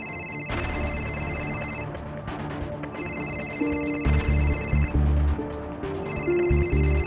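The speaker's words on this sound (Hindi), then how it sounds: "सर, आपके वाइफ का फोन आ रहा है।" An incoming call makes a phone ring in repeated bright bursts with short gaps between them, fairly faint, over some low thuds and background sounds.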